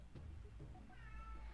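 House cat meowing insistently to be let outdoors, a couple of short close meows followed by a longer rising call.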